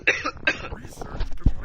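Several harsh, close coughs in quick succession, the first two loudest, trailing into rougher throat-clearing sounds.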